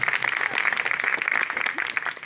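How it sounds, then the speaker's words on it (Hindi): Audience applause for the honoured guests at a Hindi religious sermon gathering, a steady, dense wash of clapping sustained throughout, moderately loud and fairly close, with no speech over it. "के लिए ताली बजा दी है।"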